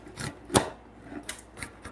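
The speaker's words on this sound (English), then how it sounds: "I really shouldn't be hitting a framing chisel. It's really meant to be pushed like this." A framing chisel pushed by hand pares wood on a timber-frame bunk bed beam, giving a few short, dry rasping scrapes with one sharper stroke, close and quiet, with no talk.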